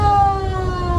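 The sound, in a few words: 1965 brush fire truck siren wired to the horn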